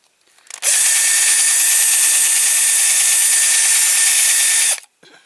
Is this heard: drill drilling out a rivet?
yes